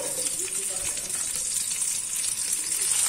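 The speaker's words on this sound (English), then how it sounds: "Fry the onion until brown." Chopped big onion frying in a pan for a beef curry, giving a steady, close hiss and sizzle with faint stirring noises throughout.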